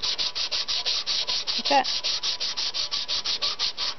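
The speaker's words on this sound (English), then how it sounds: "You can use a sanding block or anything that just doesn't bend when you put your sandpaper on it and sand it." Sandpaper backed by a flat metal piece rubs back and forth on a wooden bow handle in steady, even strokes, about five per second, close and clear, while a voice speaks briefly partway through.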